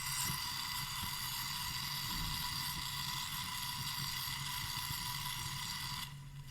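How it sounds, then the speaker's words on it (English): Coleman camp stove burner lit with a match, fuel flowing: a steady, close hiss and roar continues evenly before dropping off abruptly near the end. "Take your match, light the match, and then take the round knob and open it all the way."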